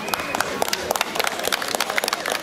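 Crowd at a 2018 harvest festival in Gierałtowiec claps for a beautifully made harvest loaf, a dense patter of hands with sharp individual claps, fairly close and lively throughout.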